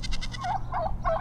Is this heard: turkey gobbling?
yes